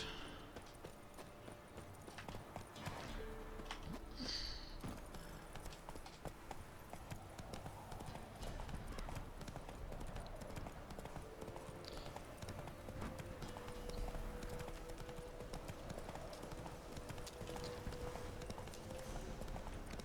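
The horse Roach galloping in the video game Witcher 3, a fast continuous drumming of hooves that stays steady and fairly faint throughout, with no talking.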